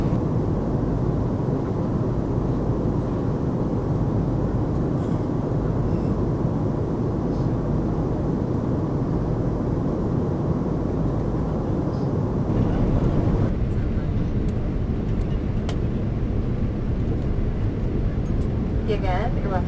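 Broadband cabin roar fills an AirAsia X Airbus A330 in flight, steady and enveloping, then dropping slightly in tone partway through before continuing evenly.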